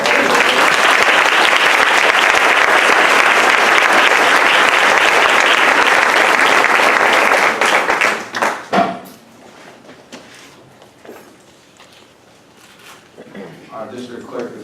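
Audience at a school board meeting gives sustained, dense applause for several seconds, then the clapping fades out and scattered room noise and talking follow.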